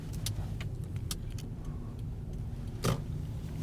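A car drives along Green Avenue near St. Patrick's Cathedral in Norwich, Connecticut, with a steady low road and engine rumble from inside the cabin, a few light ticks and clicks, and one brief louder swish near the end.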